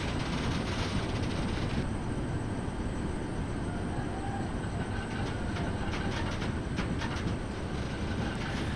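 A train rolls away from a station in Train Simulator, a steady dense rumble with a rhythmic clatter of wheels and a faint high whine throughout.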